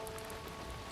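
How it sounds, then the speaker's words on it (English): Steady rain falls at Tokyo DisneySea theme park, a soft, even hiss of drops on wet surfaces with no one talking, continuous and fairly quiet throughout. "The rain had eased up."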